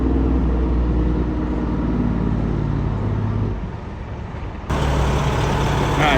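A tow truck pulling fuel tankers gives a steady, loud, close diesel drone. Its rumble dips briefly near the end, then returns to full strength.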